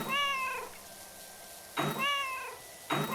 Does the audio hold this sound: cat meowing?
yes